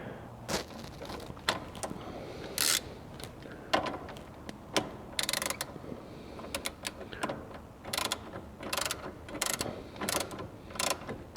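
A wrench tightens bolts to 24 foot-pounds during a Camso X4S track install on a Polaris Sportsman 850 SP, giving sharp ratcheting clicks in short irregular bursts with gaps between them, fairly close and moderately loud.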